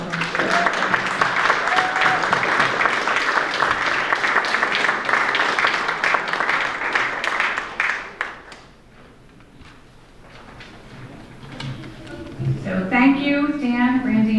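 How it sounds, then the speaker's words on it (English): Dense, steady applause at a Rotary Club honors dinner fills the first eight seconds, then fades out as a voice begins speaking. "Let's have another big round of applause."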